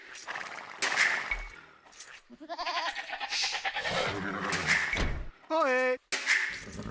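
Sheep in the video game Age of Empires bleat in short, wavering cries, several in succession and fairly clear, mixed with game clicks and effects and a brief quiet gap between calls.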